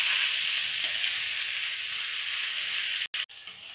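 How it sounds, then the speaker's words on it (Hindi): Potatoes and onions sizzle in a pan over a high-medium gas flame for a karela sabzi, a steady bright crackling hiss, close and even, briefly interrupted near the end. "ये अच्छी तरह से फ्राई हो चुके हैं प्याज के साथ"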